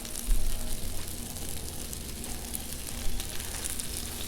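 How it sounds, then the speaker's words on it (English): Thin-cut flank steak sizzles on a Blackstone griddle, a loud, steady, close crackling hiss that runs throughout with small pops and no talk. "just put some meat on here. Get that sizzle going nice and good."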